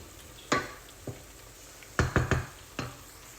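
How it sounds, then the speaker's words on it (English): Processed paste being mixed into braised onions for a curry, a spoon scraping and knocking the pan in several close strokes, some in a quick cluster, over a faint sizzle. "And then you're just going to mix this there."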